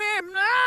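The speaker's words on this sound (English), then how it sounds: "if we were to take the tape and play it backwards, it would sound like this." A vocal recorded on tape and played backwards, a short pitched voice-like sound that swells in reverse, breaks off briefly and rises again, close and clear with nothing else behind it.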